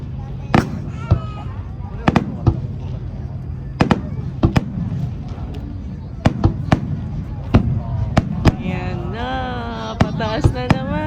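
At a nighttime fireworks festival, loud firework bursts go off as sharp, irregular booms, some far and some close, with crackling and whistling. A crowd chatters and calls out underneath throughout.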